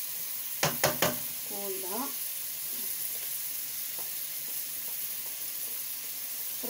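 Three sharp knocks ring out, then chopped herbs hit a pan of frying onion and courgette, raising a steady, moderate sizzle, with a voice speaking briefly over it.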